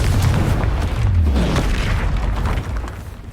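A Confringo spell blast in the wizarding game Hogwarts Legacy, a loud deep boom that rolls and rumbles for a few seconds before tapering off, with no talking over it.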